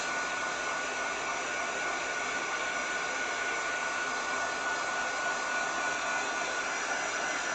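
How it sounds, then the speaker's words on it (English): A heat gun drying spackling gives a steady, loud, unbroken blowing whir with a faint high whine, running continuously from start to finish with no talk. "I'm just heat setting this for it can get a fast dry"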